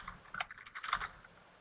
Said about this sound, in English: It looks like there's some typing going on.